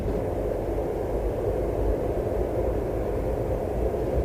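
A distant express train from the Thunderbirds series rumbles as it approaches, a steady low roar with no voices over it.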